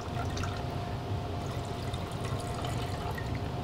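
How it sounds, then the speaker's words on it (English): Water poured steadily into a container during a fluid statics lab setup, a continuous splashing trickle close by and fairly loud, with no talking. "You're going to continue to add the water"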